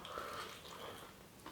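Someone bites into warm piri piri fries from Pepe's that have softened but keep some crispness, making a close, brief crunching and chewing sound with no talking.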